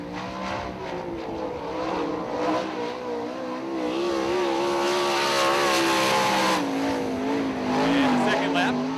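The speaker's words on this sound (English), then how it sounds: "as Anderson comes down, takes the white flag" A 410 sprint car racing around the 34 Raceway during an Interstate Racing Association event, its engine roaring and wavering in pitch as it passes, rising louder toward the end, with an announcer talking over it.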